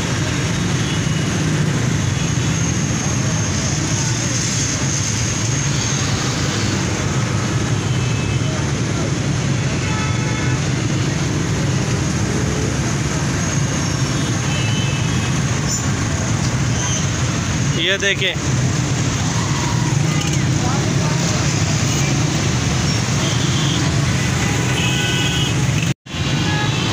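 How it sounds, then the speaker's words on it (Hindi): Traffic jam on Mall Road, Lahore, during a protest: a constant mix of engines, horns and street noise, with someone speaking briefly over it and a sharp knock near the end. "ये लाहौर का माल रोड है जहाँ पे ट्रैफिक जाम है।"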